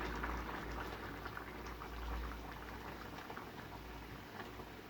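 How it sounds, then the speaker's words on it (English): Beer is poured into a pot of dragonbreath chilli, giving a steady fizzing, bubbling liquid sound that continues evenly and close throughout. "And it says pour in the beer."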